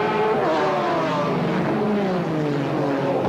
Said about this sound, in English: Start of the race then, and the McLarens set off up front.